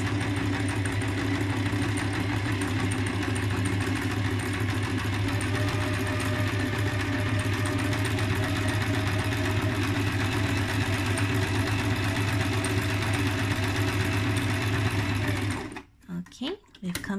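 A sewing machine back stitches fabric in a fast, steady mechanical whir close by, running continuously before stopping abruptly near the end, followed by a few brief handling sounds.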